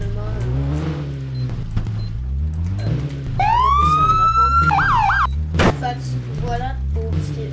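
A video game police car siren wails and yelps with a rising, warbling tone over low engine rumble and background talk, followed by a short horn-like blast.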